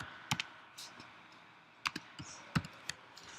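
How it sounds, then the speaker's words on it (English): Short bursts of keystrokes on a computer keyboard, typed in quick clusters with pauses between, close and fairly quiet against a soft room background. "I'll start typing apple pie."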